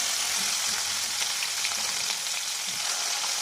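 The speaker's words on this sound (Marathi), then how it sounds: "सोबत फोडणी करायची" Cumin and spices sizzle in hot oil for tempering in a soya paneer curry, a dense, even crackle that stays close and constant, with faint stirring underneath. No voices are heard.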